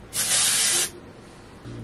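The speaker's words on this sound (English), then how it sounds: "We're going to do the Living Proof Dry Volume and Texture Spray to make sure that it stays all voluminous." Living Proof Dry Volume and Texture Spray sprayed onto hair, a single close, loud aerosol hiss lasting under a second, then quiet room tone.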